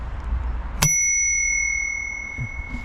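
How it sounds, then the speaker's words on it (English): A single crisp ring from the handlebar bell of an Engwe E26 all-terrain e-bike, close and loud, with a bright metallic tone that rings on and fades slowly. No speech. "I love this Engwe bell."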